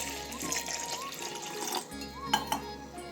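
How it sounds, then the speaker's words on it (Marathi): Cold water pours and splashes into a mixer jar of butter in a short, close burst, with a few glassy clinks near the end. "आता आपल्याला हे थंड पाणी टाकायचं आहे"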